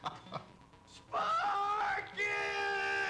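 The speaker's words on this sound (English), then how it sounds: "Oh, you want more screaming?" Screaming voices in the video game MTV: Club Dead, a loud sustained shriek from the middle onward after softer vocal sounds, with a second strong scream rising near the end.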